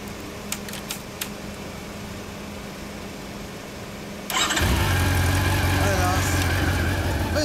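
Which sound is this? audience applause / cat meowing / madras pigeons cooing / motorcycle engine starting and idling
motorcycle engine starting and idling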